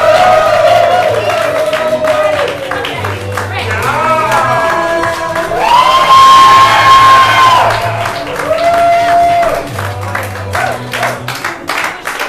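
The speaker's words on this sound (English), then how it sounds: "Keep that clapping going as we bring our second group up on stage." A live audience at a summer intensive showcase claps steadily with scattered cheers and whoops, loud and continuous, under music with a sustained tone and some voices.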